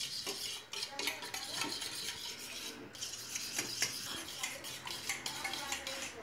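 A spoon stirs a tomato paste sauce with oil, water and salt in a pot, giving continuous scraping and clinking against the metal with a soft wet swirl underneath, close and fairly quiet.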